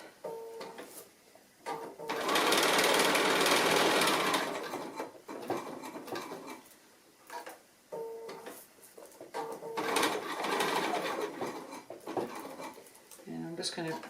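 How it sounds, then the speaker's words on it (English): Sewing machine stitching around the outside edge of a fabric piece, close rapid whirring runs in several bursts separated by pauses and light handling clicks, with a voice talking between runs. "I'm just stitching around the outside edge of that piece."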